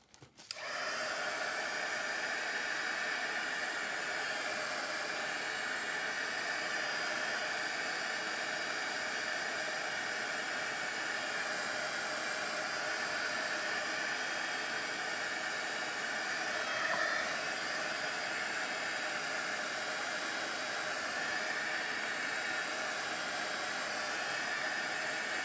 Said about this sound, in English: Let me hit that with the heat gun real quick so I don't have a mess everywhere.